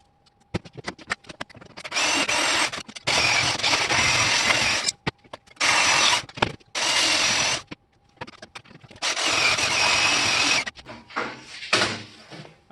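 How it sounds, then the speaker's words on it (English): A power saw cuts through steel pipe on a mini buggy rear drive with a welded sprocket shaft, in loud harsh bursts separated by short pauses, with clanks and handling noises between cuts. "I cut the pipe, and then with the force of the weld on the opposite end, brought the pipe down and pinched my blade"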